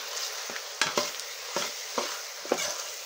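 Onions and green chili fry in oil in a pan, a soft steady sizzle broken by several scraping stir strokes from a spoon, close and fairly quiet, with no talking.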